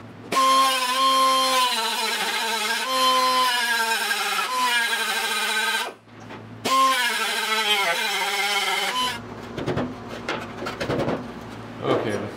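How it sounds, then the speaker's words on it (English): An angle grinder cuts out spot welds on the roof of a 1972 Triumph GT6, a loud steady whine broken by a brief pause, then rougher, scratchy grinding against the sheet metal. "So I don't like drilling the spot welds, so I think I'm just gonna grind them."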